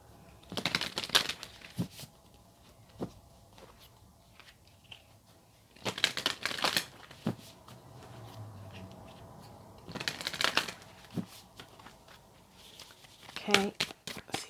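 Oracle cards shuffled in a few short bursts of papery flicking and riffling, separated by quiet pauses, close and fairly soft.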